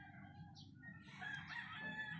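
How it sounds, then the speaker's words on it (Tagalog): A rooster crows faintly in the distance over a low background hum, a single drawn-out call. "tumitilawak mga manok dito"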